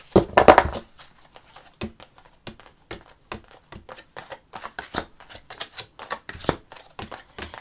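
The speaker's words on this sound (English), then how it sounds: "Okay, so let's pull a few angel cards." Angel cards are shuffled and pulled. A loud riffle opens, followed by a long string of close, crisp card snaps and slides at an uneven pace, with no talking.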